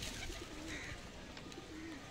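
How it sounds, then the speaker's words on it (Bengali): Pigeons cooing softly amid low rustling, faint and somewhat distant, where the birds gather to bathe in water. No voices are heard. "দেখুন কিভাবে স্নান করছে, এখনো অনেকগুলো পায়রা বাকি আছে"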